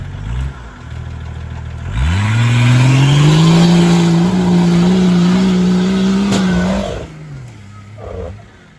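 A Toyota off-road vehicle at an RFC Ukraine off-road event in Pryluky, March 2021, revs up sharply after a brief idle into a loud, sustained close engine roar that holds for several seconds, then drops back toward idle.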